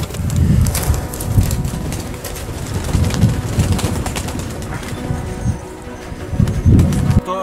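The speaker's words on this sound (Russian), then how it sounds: "Четкие голуби, реально." Ancient fighting pigeons at a breeder's loft coo in repeated low, throaty pulses, several birds nearby, with wing flutters and faint background rustle.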